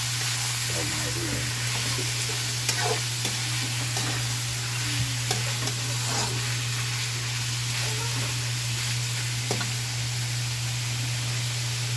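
Ingredients are stir-fried for pancit canton guisado, giving a steady close sizzle with occasional scrapes and stirring clatter under a constant hum.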